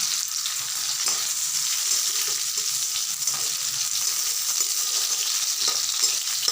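Black cumin seeds frying in hot oil, a loud, even, continuous sizzle with a bright hiss and faint stirring taps throughout, no voices.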